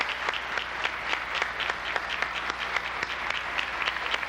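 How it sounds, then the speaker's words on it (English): Warm applause from an audience on a Kentucky state House floor, steady dense clapping at moderate distance with no talk over it. "Would you give Dan a real warm Kentucky applause?"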